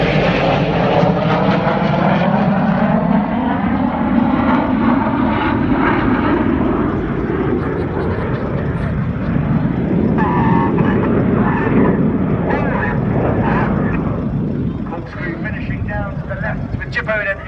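Red Arrows jet aircraft roar through a corkscrew display manoeuvre at the Sunderland Air Show, a loud sustained engine rumble that swells and shifts in pitch as the jets pass, with a commentator talking over it.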